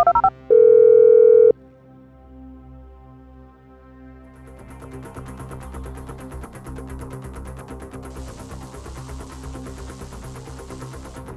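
In GTA V, a phone call is placed: a short burst of dialing tone, then a continuous ringing tone that rises and holds steady under the game's background music, loud and alone without talking.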